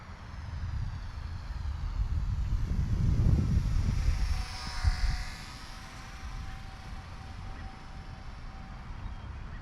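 Eachine Mini F4U EPP 400mm Corsair RC plane flying slowly at about 30% throttle, a faint steady motor whine with a soft swell as it passes near, under heavy low wind rumble.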